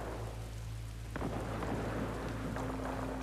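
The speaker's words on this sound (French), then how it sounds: "La tempête fait rage." Thunderstorm with rain in the video game The Last of Us Part II: steady rain hiss with a sudden thunder crack about a second in, followed by rumbling, all without speech.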